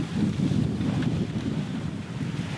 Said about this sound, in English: The wind, sometimes it's with you, sometimes it's against you.